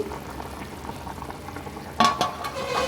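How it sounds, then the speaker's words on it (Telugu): Country chicken curry bubbles steadily in a pot on the stove over a medium flame, a continuous close simmer with a short burst of stirring and clinking near the end. "కూర ఇలా ఉడకడం స్టార్ట్ అయ్యాక ఫ్లేమ్ అనేది మీడియం ఫ్లేమ్లో పెట్టుకొని ఉడికించుకోండి"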